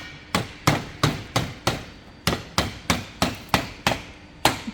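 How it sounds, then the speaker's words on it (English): A hammer taps a bead into the door channel of a tunnelhouse, thirteen sharp close knocks in a quick, slightly uneven rhythm, with a short pause after the first six. "we just need to finish that off with a hammer"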